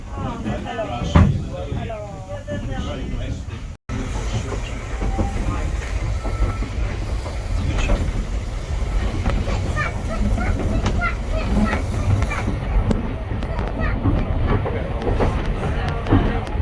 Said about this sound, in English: that's a much bigger train